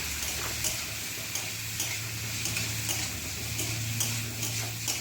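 Potato and ash gourd peels with salt and turmeric stirred in a pan, a low sizzle under regular light clicks of the spoon against the pan, quiet and close.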